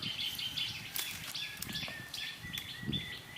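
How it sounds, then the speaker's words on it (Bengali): Thin, high-pitched chirps from red-whiskered bulbul chicks repeat rapidly and insistently, close by, over faint rustling and background hiss. "পাখিটা কি বলছে আপনারা বুঝবেন"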